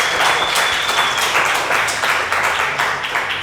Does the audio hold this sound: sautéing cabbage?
no